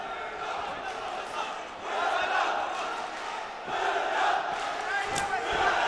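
Spectators at a kickboxing bout in Güngören Sports Complex, Istanbul, chant in a steady, swelling roar across the whole stretch, rising in waves and sitting under an excited commentator's voice.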